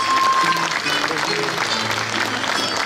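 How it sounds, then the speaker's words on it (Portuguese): Audience applause at a Divino Espírito Santo festival cantoria in Ponta Delgada, a steady dense wash of clapping from a crowd that continues throughout, with faint musical tones and voices underneath. "deem palmas"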